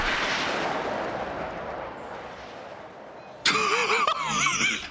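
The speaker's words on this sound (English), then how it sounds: "is that a freaking mortar?" A mortar fires in a scene from the TV series Barry. A heavy, rumbling blast rolls out and slowly decays over several seconds, then excited voices break in near the end.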